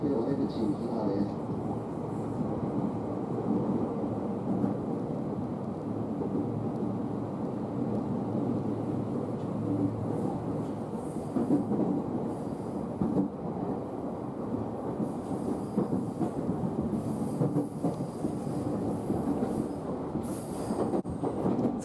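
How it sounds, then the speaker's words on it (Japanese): Limited express train pulling into platform 3 at Omiya station, a long continuous rumble of rolling wheels with occasional squeals and clatter, heard from on board. "大宮駅の3番線に到着です"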